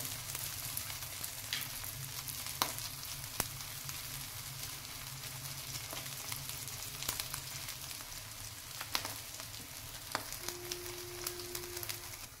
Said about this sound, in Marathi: उलटून घेऊया आणि दुसऱ्या बाजूने पण छान भाजून घेऊया।